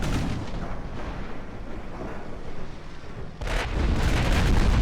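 Heavy naval guns from battleships roar in Ultimate Admiral: Dreadnoughts, a dense, continuous rumble of booming fire that drops briefly and then swells again with a fresh loud volley near the end.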